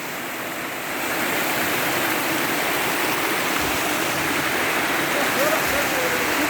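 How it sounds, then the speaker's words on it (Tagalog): Steady rushing of river water flowing nearby, a loud continuous broadband wash that swells slightly after the first second and holds unbroken, with no clear voices. "Tubig."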